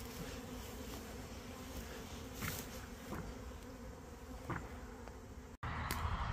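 Bees buzzing around flowering hazel bushes outdoors in early spring, a steady faint hum of insects with occasional closer passes, continuous and without talk.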